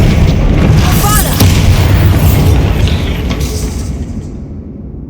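A Bombarda spell detonates in the Hogwarts Legacy game, a loud heavy boom with crackling debris that rolls on and fades out over a few seconds.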